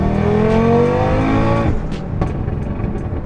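Audi RS3 with a stage 1+ tune and DSG gearbox revving hard, its pitch climbing in a loud sustained howl before cutting off abruptly at a shift, followed by a lower rumbling idle with brief pops.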